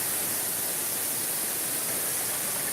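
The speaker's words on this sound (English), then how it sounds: "Check out that waterfall." Kanto Lampo waterfall in Bali roars as a steady, dense broadband rush of falling water, constant and fairly loud with no variation or voices.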